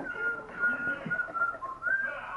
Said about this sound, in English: we noticed the whistling doesn't work.